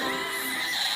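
A horse neighs in a brief, shrill whinny that fills the moment, close and fairly loud.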